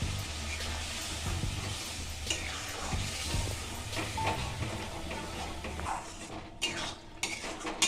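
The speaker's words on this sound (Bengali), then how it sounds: "সামান্য জল দিয়ে কাশ্মীরি লঙ্কার গুঁড়ো ভিজিয়ে রেখেছিলাম সেটাও দিয়ে দিলাম দিয়ে আমি এবার এটাকে ভালো করে কষিয়ে নেব" Masala with soaked Kashmiri chilli powder is stir-fried in a pan for chicken changezi, a spoon scraping and clinking against the metal in a steady rhythm over a soft sizzle.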